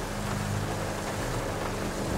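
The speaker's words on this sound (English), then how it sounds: "Pouring down raining and we doing triple digits out here." Dense, steady hiss of heavy rain pouring down on a car driving at triple-digit speed, mixed with a low rumble, constant and loud throughout.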